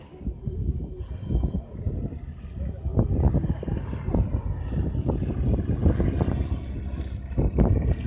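A vintage propeller airplane's engine drones and dips in level as it throttles down for a turn at an air show, with wind buffeting the microphone throughout.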